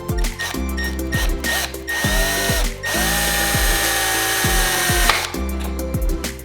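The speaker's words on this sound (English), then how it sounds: "I'm just gonna basically just drill the front of my tapping kit." A cordless power drill bores into metal with a tapping kit in repeated bursts, whining up to a long steady grind, then stopping and restarting, loud and close with no talking.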